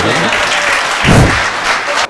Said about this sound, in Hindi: एक बार और तालियां बजा दे मेरे।